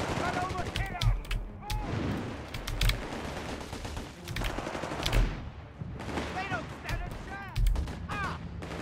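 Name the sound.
light machine gun fire in the video game Company of Heroes 3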